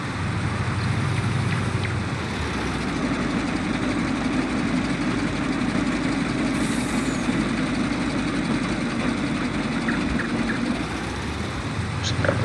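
A ZIL truck idles steadily in Farming Simulator 19, a continuous low engine rumble with broadband noise, heard close and alone at a constant level throughout.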